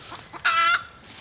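A white Basilan chicken clucks beside its nest of eggs, one short loud drawn-out squawking cluck near the microphone, with quieter soft clucks just before it.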